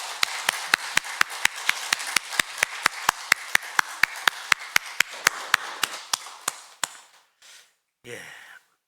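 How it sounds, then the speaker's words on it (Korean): A church congregation at a Sunday service claps together in a steady unison beat, about three sharp claps per second for roughly seven seconds, before the clapping stops and a brief murmur follows. "우리 힘찬 박수로 영광 돌립니다"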